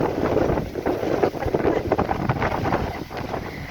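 Strong wind roars and buffets the microphone continuously, a loud gusty rush with no voices.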